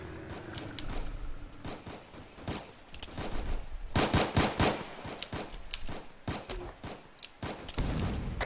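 Rapid gunfire from a squad during a river crossing: dense, loud bursts of shots rattle almost continuously, with the heaviest volley in the middle, close and without speech.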